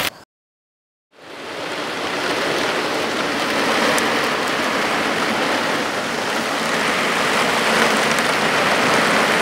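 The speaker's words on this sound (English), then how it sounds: "It has started raining big time" After a brief silence, heavy rain roars in as a dense, steady hiss of water pouring down, loud and close, continuing without letup.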